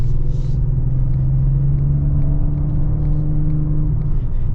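A 2025 Ford Explorer ST with a V6 engine accelerates, giving a steady, deep engine rumble with rising tone heard from inside the cabin, continuous and fairly loud with no talk.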